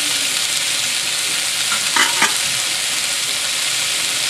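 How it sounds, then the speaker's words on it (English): Rice and smoked bacon sizzling steadily in a pan, with a couple of brief scraping strokes as the mix is stirred, close and continuous with no talk. "Give them a quick stir"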